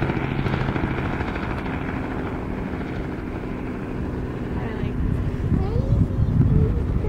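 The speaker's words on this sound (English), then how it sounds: "That's a helicopter below us." A helicopter flies below a high lookout, giving a steady broad rotor and engine roar that swells slightly toward the end, with wind and a voice mixed in.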